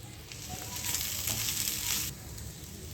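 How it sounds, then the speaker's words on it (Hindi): Spiced sweet potato pickle being stirred in a hot pan with dried coriander mixed in, a soft sizzle that swells into a louder scraping hiss for about a second and a half, then settles back to a faint simmer. "मिक्स करेंगे इसको अच्छे से।"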